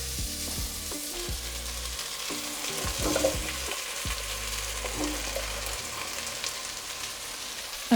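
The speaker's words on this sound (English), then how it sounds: "we'll just cook all of this until it's softened and starting to turn golden" Fennel seeds and roughly chopped garlic fry in a pan, a close, steady sizzle with occasional stirring scrapes and light clinks over the constant crackle.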